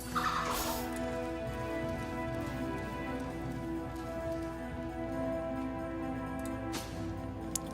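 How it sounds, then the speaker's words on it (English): Chicken gobbling and clucking in Divinity: Original Sin, repeated fowl calls over a steady game ambience with a sharp clatter near the end. "Don't let the chicken escape."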